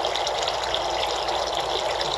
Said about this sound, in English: the water discharge of the unit